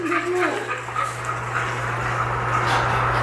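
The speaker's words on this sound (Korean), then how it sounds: "강아지가 한 마리 더 있네요" A dog whimpers and whines in short, high yips near the start, then fades to faint sounds over a steady low hum.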